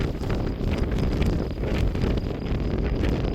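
Strong wind blows in the village of Seleverci, Macedonia, a continuous loud rumble buffeting the microphone at close range with no voices.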